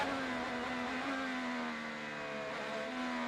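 An IndyCar racing engine heard from onboard through turn 4 at Mid-Ohio during Honda Indy 200 qualifying, a loud steady high-pitched drone with slight pitch dips and rises as the car brakes and accelerates through the corner.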